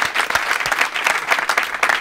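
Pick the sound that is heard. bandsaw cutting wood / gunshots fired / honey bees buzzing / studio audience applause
studio audience applause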